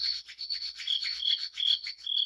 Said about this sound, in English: put your palms together and rub them back and forth, making some nice heat there